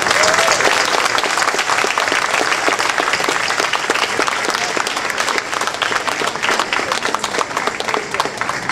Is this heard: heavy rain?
no